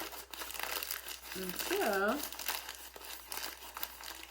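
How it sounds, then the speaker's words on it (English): A paper bag being rolled and crumpled down at the edges to shape a simple bird's nest, giving soft, close crinkling and rustling throughout, with a brief spoken word in the middle. "I'm just going to keep rolling and crumpling the edges down"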